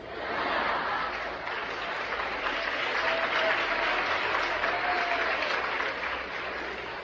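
Audience applause at a Hindi talk on health and home remedies, steady and dense throughout, a sustained crowd clapping with faint chuckles mixed in.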